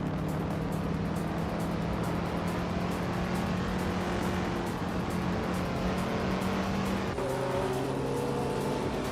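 Steady engine drone of a 1962 Morgan Plus 4 racing car in a racing game, a sustained hum that holds one pitch then drops near the end, heard continuously with no talk.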